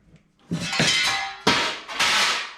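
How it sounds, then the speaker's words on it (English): A piece of steel drops behind a workbench in a shop where a 1951 Chevy Fleetline's inner fenders are being prepared, several loud, close metallic clatters and bangs in quick succession within about two seconds. "that's my other piece of steel just fell down behind here"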